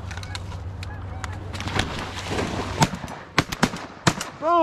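A shotgun fires at ducks during a duck and goose hunt at a wildlife refuge. Several sharp, loud reports go off in quick succession amid outdoor rustle and movement, followed by a louder swell at the end.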